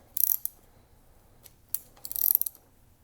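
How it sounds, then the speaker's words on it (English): A 10mm ratchet loosens the two bolts at the bottom of SR Suntour bicycle fork lowers, giving short bursts of rapid clicking with a few isolated ticks between them, close and fairly quiet. "Now you're going to take your 10mm, and this is going to remove, just going to remove the 2 bolts on the bottom of the lowers."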